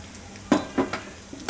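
Cumin seeds sizzle in hot oil in a Gujarati home kitchen while making makai na lot ni raab, with a soft frying hiss broken by three or four sharp stirring clinks of a spoon against the pan.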